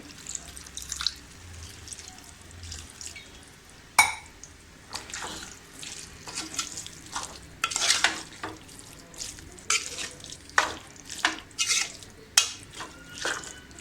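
Chicken keema in a pan with half a glass of water added, heard as repeated spoon stirring strokes and wet scraping over a low bubbling simmer, close and moderately loud.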